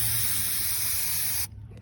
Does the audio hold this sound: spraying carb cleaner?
yes